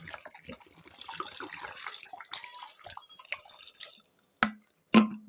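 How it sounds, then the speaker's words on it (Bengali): Water from a bottle poured into a pot of lentil dal with bottle gourd in a home kitchen, a close, continuous liquid splash that ends with a couple of brief spills. "এবার জল ঢেলে দিই"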